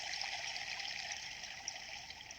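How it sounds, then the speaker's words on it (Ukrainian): Staubbach waterfall in Lauterbrunnen in the Alps, a steady hissing rush of falling water, continuous and even, heard at a moderate distance and quiet in level, with no voices. "водоспад Штаупах вражає найбільше"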